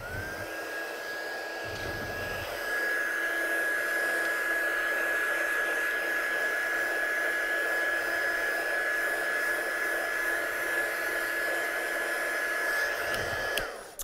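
Heat tool runs steadily for about thirteen seconds, heat-setting stamped and watercoloured ink on a handmade card, a constant close whine over a rushing airflow hiss before it clicks off.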